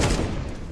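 A short burst of gunfire rattles in a Counter-Strike pro league match, a quick cluster of shots fading fast within a second.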